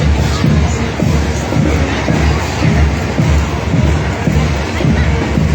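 A large street crowd at the Mamaroneck Fireman's Carnival parade keeps up a steady, loud outdoor murmur of babble, shuffling and scattered cheers, with rhythmic low thumps running beneath it.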